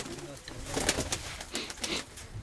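Pigeons coo softly and repeatedly over a rustling, noisy background, with faint flutter and scattered bird sounds nearby.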